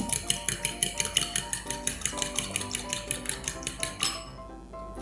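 Eggs whisked with a little water in a bowl for a microwave omelet, a quick run of rhythmic utensil taps against the bowl that clatter steadily, close, then stop near the end.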